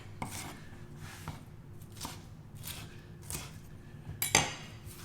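Knife slicing seafood thinly on a cutting board for a pizza: a run of separate dull chops and scraping strokes at an uneven pace, ending in a sharper clack near the end, heard close up with no talking.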